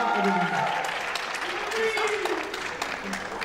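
An audience at a Miss Ronde France beauty pageant applauds, with clapping rising at the start and fading under a voice speaking over it.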